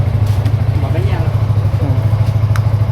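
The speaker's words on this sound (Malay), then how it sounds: "kita akan ride dengan motor SYM 985, ayah saya punya" A SYM motorcycle engine idles close by with a steady, low, even throb that holds unchanged throughout, while voices are faintly audible in the background.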